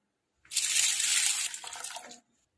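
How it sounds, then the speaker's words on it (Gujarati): Chana dal is rinsed in water, giving one close splashing, sloshing burst of about two seconds that eases toward the end, with no talking. "હવે આપણે એને 2-3 પાણીએ ધોઈ લઈશું"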